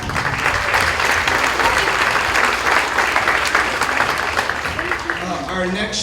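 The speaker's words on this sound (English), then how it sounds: "Round of applause." An audience at a middle school winter concert applauds steadily for several seconds, dense clapping from a crowd in a hall that fades slightly near the end, with a few faint voices underneath.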